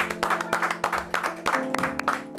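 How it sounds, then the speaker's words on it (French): Audience applause at a live rap session, steady clapping through the whole stretch with loud irregular claps near the front and music still sounding underneath. "on peut applaudir"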